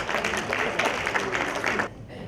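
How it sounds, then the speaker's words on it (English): Applause from the audience at a customer experience summit, a broad steady wash of clapping that stops sharply near the end, leaving a quiet room. "A round of applause for your moderators"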